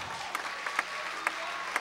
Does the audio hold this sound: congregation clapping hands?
yes